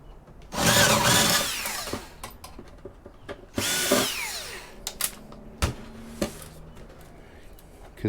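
Cordless screwdriver used while scrapping e-waste, two loud whirring bursts of the motor spinning screws out, followed by scattered clicks and small metallic clatters of parts being handled up close.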